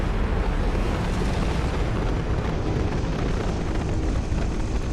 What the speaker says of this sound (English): When you headshot him like that, he does this like nuclear explosion.